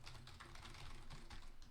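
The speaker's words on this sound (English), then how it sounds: "That is what a membrane keyboard sounds like." Continuous typing on a ROCCAT Magma Mini 60% RGB membrane gaming keyboard gives a close, busy patter of muted key presses in an uneven rhythm, heard alone without speech.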